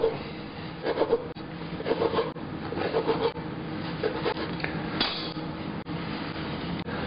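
Old bread being diced on a board for Caesar salad croutons: a steady series of dull knife chops and rubbing cuts against wood, close and fairly regular, with no talking.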